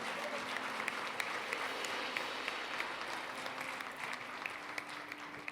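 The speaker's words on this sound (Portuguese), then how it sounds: "nós também celebramos com a nossa melhor oferta de palmas" A church congregation claps continuously, a dense and even wash of applause that fills the whole five seconds without pause, with no voices rising above it.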